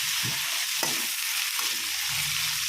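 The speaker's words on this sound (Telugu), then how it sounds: "సోరకాయలు వేసి బాగా ఇవి కూడా కొంచెం మెత్తగా అయ్యే వరకు కలుపుకోవాలి ఇవి కూడా మంచిగా నూనెలో మంచిగా వేగినట్టు కావాలి" Bottle gourd pieces fry in oil for a chutney, with a constant close sizzle broken by a few scraping stirs of a spoon against the pan, no talking.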